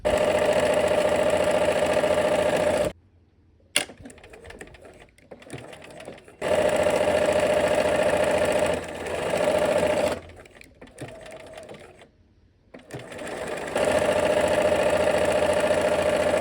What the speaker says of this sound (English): we're gonna take our couple stitches and do some back stitching